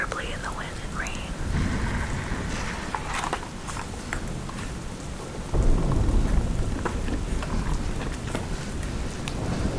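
A thunderstorm with steady rain and rumbling thunder, heavy rainfall throughout with a loud thunderclap swelling partway in, under soft storytelling narration.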